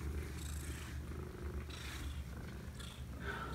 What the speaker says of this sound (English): She is just purring up a storm.